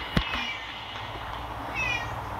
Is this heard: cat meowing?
yes